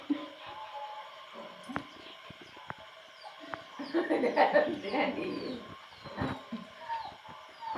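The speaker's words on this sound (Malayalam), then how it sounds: "പക്ഷി പറക്കുന്നു" Birds cooing outdoors at a family gathering, low repeated coos mixed with faint chirps and a few sharp knocks, with louder bursts midway and quieter stretches, moderately distant with background activity.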